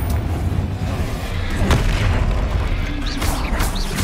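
A Confringo fire spell in Hogwarts Legacy lands as a deep rumbling blast with a sharp crack in the middle, over steady game noise and followed by faint whooshing spell effects.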